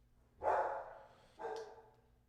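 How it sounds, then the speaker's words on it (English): A pet dog barks indoors, two separate fairly loud barks about a second apart, the first longer, the second shorter, with a quiet room between them. "Sorry, my dog's freaking out."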